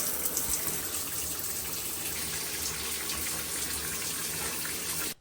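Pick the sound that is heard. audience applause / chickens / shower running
shower running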